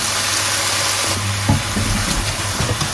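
Mushrooms browning in butter in a pan over high heat give a steady, close sizzle with a few stirring scrapes and knocks toward the end.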